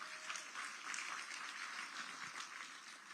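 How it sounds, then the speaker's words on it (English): Faint, fairly brief applause from an audience at an evening gathering, with a patter of claps that rises and tapers over a few seconds. "give them a round of applause"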